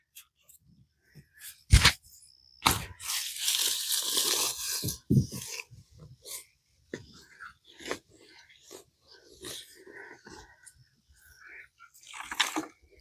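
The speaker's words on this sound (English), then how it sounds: "I'm going to take my trowel, and I want to get as much of the root ball as I can." Garden trowel digging out the root ball of a pepper plant: scattered scrapes, crunches and scuffs of soil at close range, with a longer gritty rasp early on and irregular pauses between strokes.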